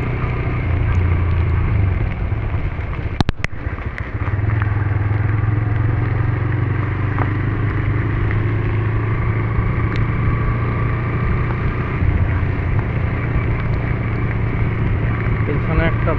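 Road noise in heavy rain as a motorbike comes up from behind to overtake, a continuous low engine drone with a sharp clatter near the third second, heard steadily with light talk underneath.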